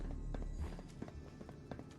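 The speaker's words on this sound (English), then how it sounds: "I can hear footsteps." Footsteps in Fallout 4 on stairs, a run of soft, fairly quick steps at moderate distance over a low game rumble, with no talk.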